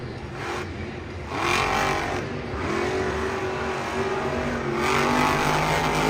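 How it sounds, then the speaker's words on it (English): A Monster Jam monster truck engine at an Arlington arena event, held high against the rev limiter in second gear, a loud buzzing roar that rises and bounces in repeated surges with a distant crowd wash underneath. "he is hitting the rev limiter way too quickly in second gear"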